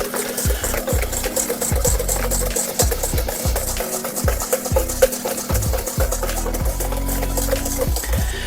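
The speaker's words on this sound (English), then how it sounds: "It says to whisk them together until they are light and creamy." Eggs being whisked for classic eggnog, a steady run of fast rhythmic whisk strokes against the bowl, close and continuous throughout with no talking.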